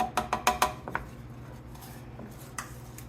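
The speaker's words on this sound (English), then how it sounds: "Now I'm just mixing this in." Metal utensil clinks and scrapes against a pan as butter is stirred into food on the stove, a quick cluster of sharp knocks followed by a quieter pause and one last tap.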